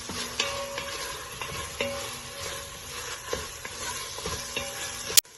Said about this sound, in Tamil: இங்க பாத்தீங்கன்னா நம்ம விங்ஸ் சேர்த்து நல்லா சாட்டே பண்ணி விட்டுட்டோம்.